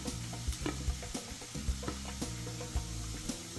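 Sliced carrot and capsicum sautéing in a pan, a soft continuous sizzle broken by a steady rhythm of spatula scrapes and taps, close and fairly quiet with no talking.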